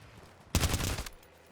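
Call of Duty: Warzone gunfire rips out as a single rapid automatic burst of about half a second, loud and dense, after a quiet lead-in, then fades.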